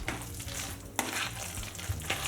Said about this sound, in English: So next, add the salmon and mix it up.